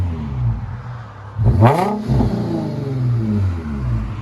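A 2003 Infiniti FX35 with dual exhaust and the mufflers deleted idles with a deep, steady rumble, then blips once into a sharp, rising rev that falls back to idle, loud and close with no talking.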